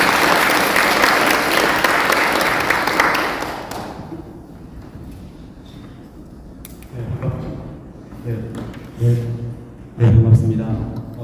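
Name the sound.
audience applause welcoming a speaker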